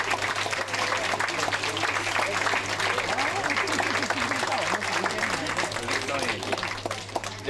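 Passengers aboard a Danube river cruise ship applauding a crew member, a sustained even patter of clapping with crowd murmur and talking beneath it.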